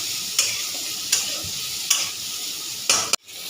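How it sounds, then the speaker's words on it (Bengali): Bitter gourd frying in hot oil in a pan, a steady close sizzle punctuated by four sharp spatula stirs and scrapes before it cuts off abruptly. "আগে উচ্ছেটা ভেজে নিয়েছি"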